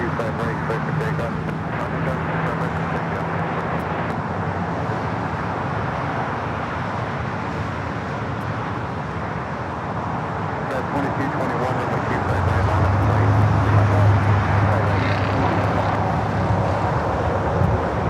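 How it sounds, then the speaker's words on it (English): TAP Air Portugal Airbus A330neo taking off from LAX runway 25R, a broad roaring rumble that swells toward the end, distant and continuous under outdoor wind noise. "TAP will be heading back to Lisbon, this A330neo."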